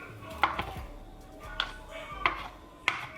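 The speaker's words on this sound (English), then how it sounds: "just roughly chop it up." A knife chops cooked eggs on a board in a home kitchen, four crisp separate knocks spaced about a second apart over a quiet room background.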